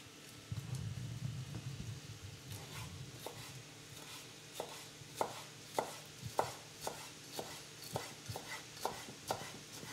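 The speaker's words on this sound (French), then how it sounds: "On vient hacher tout ça finement." A knife finely chops vegetables for a zucchini and smoked salmon terrine, tapping the cutting board in a steady run of close, crisp strikes that grows more regular as it goes, with no talking.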